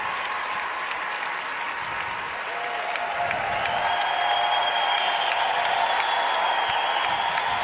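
A dog show audience at the Westminster Kennel Club hound group applauds steadily for the English foxhound as it gaits around the ring, a dense, sustained crowd clapping that builds slightly and continues throughout.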